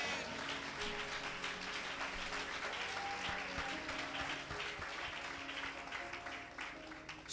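A church congregation at an Easter Sunday service claps and acclaims the Lord, a broad sustained wash of applause holding level throughout, fairly distant, with some musical tones beneath.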